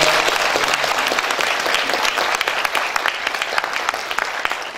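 A congregation applauds at a church's 33rd anniversary thanksgiving service, a full, even roll of many hands clapping that holds steady and fairly loud throughout.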